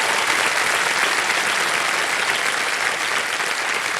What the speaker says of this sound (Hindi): एक बार फिर तालियां बज जाएं सुधीर कुमार जी के लिए